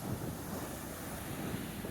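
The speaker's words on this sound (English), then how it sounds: "we're just footsteps away from the ocean" Atlantic Ocean surf and strong wind on a Central Florida beach, a dense continuous roar of breaking waves mixed with buffeting wind against the microphone, loud and unbroken with no voices.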